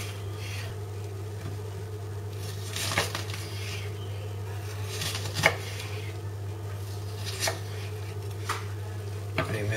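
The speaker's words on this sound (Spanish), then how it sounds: "A continuación vamos a picar la cebolla." A knife chops onion for miso soup on a board, with a few sharp, separate cuts spaced a couple of seconds apart over a steady low hum and faint kitchen noise.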